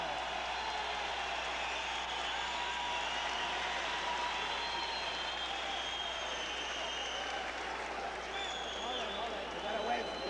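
A boxing arena crowd greeting Matthew Hilton before his fight with Wilfredo Benitez, with sustained applause and cheering from a large audience, heard at a distance and steady throughout, under a commentator's voice.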